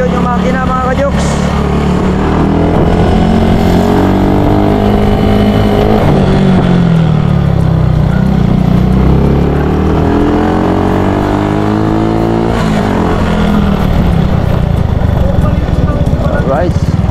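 A car engine revs up and down in long sweeping pulls, loud and close, holding high and then easing off in waves over a steady rumble.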